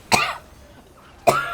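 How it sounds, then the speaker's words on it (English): Two sharp coughs from one person, close and fairly loud, separated by a quiet pause of about a second, with a short throat-clearing tail after the second. "Suddenly, talking is irritating the top of my mouth, which is making me cough."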